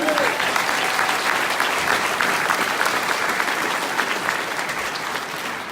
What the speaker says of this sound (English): one more round of applause for Senator Carl Allen